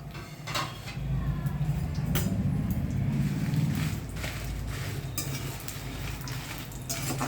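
Green chilies fry in a little oil in a pan, a steady close sizzle with a low rumble and occasional scraping clinks of a spoon against the pan.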